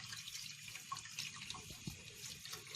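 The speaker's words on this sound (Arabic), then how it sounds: "تحت الميه كده اهو، الممبار تحت الميه، اشغل الميه كده" Tap water runs steadily into a sink over beef intestines (mumbar) as they are rinsed and turned by hand, a close, continuous splashing flow with no talking.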